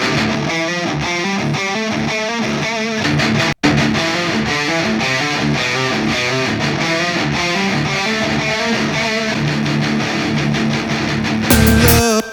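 A mixed music track in Reaper carries stereo delay and reverb, giving a loud, dense and continuous sound with a brief dropout near the start and a swelling, washed-out ending.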